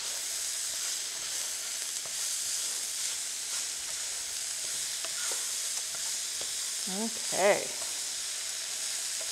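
Vegetables caramelizing in a fry pan for a barley, lentil and vegetable soup, giving a steady even hiss of sizzling throughout with a few light stirring scrapes near the end and a brief spoken word.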